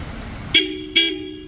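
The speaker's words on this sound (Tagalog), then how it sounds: "So demo namin sa inyo yung busina." Two loud, sharp blasts from a supersonic car horn fitted to a 2025 Toyota Fortuner, each a short bright honk with a lingering tone, separated by a brief gap.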